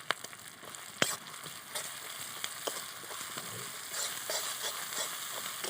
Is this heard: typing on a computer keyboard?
no